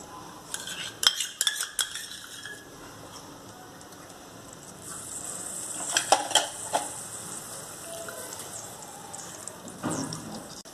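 Ghee goes into a hot pan while samo rice is being cooked for a fast, with a soft steady sizzle, spoon clinks, and scraping bursts of stirring against the metal.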